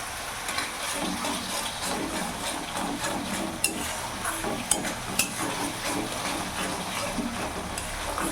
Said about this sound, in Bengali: যতক্ষণ না মশলা থেকে তেল ছেড়ে দিচ্ছে ততক্ষণ ভালো করে আমি এটা কষিয়ে নেব